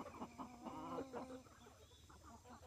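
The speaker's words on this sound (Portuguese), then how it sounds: "Esse galo é galo, porque ele fica cantando assim?" A rooster on a cacao-growing farm gives a hen-like clucking call, a short run of faint, distant fowl vocalizations that fade into quiet background.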